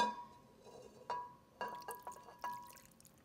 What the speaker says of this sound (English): We're gonna take this and put it right in our crock pot on top of our meat.